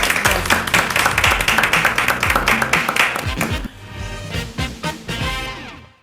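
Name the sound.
studio applause closing the program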